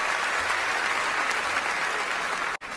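Studio audience applauding and cheering for retired basketball player Paul Pierce, a dense, steady wash of clapping that holds at full level before cutting off abruptly near the end.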